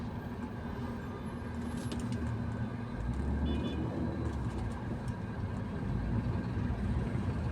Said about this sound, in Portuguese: Ó o ônibus.